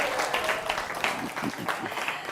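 Brief applause from a studio audience at a televised Jakarta gubernatorial debate on education, given for the two candidates. The clapping is moderately quiet and lasts a couple of seconds, with a voice faintly under it.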